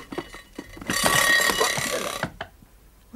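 A mechanical alarm clock rings in one loud, continuous bell burst of about a second and a half, set among short knocks and rustles in a room, stopping abruptly.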